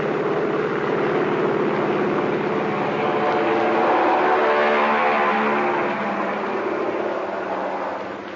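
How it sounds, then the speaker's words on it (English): A steady, heavy roar of a propeller plane's engines revving on an aircraft carrier deck, holding loud before gradually easing off as it takes off and moves away, in an old radio news broadcast. "The pilot revs up his motors."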